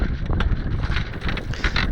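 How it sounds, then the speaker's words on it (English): Steady wind buffets the microphone aboard a small sailboat on the Schlei inlet, a loud continuous rumble with faint splashing and rattling beneath it and no voices. "At least the good side of the weather was that it brought some wind with it."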